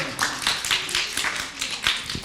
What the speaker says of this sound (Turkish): Alkışlarınızla Amine Özen geliyor.